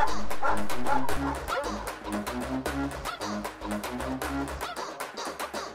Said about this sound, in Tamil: ஐயோ நாய்.